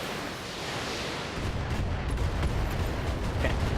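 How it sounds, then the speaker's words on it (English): Long-range missiles launch in the BattleTech mech combat game, a dense rumbling volley that thickens after the first second into a heavy, sustained roar of fire with faint crackles, no talking. "We're going to need to fire on the heavy LRM turret with our LRMs."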